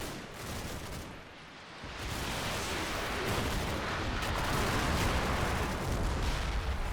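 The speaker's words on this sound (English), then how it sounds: "Some more artillery coming in." Artillery in Combat Mission: Battle for Normandy thunders in a dense, continuous barrage of booming impacts and rolling gunfire that grows louder and heavier, with no voices.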